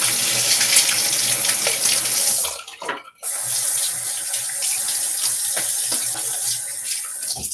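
Water running hard from a bathroom tap while a razor is rinsed after a wet shave, a loud continuous splashing rush that breaks off briefly in the middle and then resumes.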